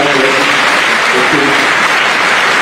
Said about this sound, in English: let's give a round of applause for our panel session